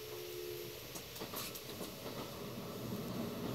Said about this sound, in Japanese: After leaving Ikoma, this train will be stopping at Tsuruhashi.